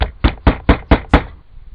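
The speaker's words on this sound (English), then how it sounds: "I'm making my holes with my trusty nail about every quarter inch or so" A nail punched through leather to make stitching holes about a quarter inch apart for a leather-bound portfolio: six sharp, evenly spaced knocks close by, each one crisp and short, then quiet.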